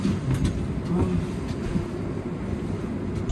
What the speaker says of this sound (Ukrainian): Ну і сідаємо на потяг.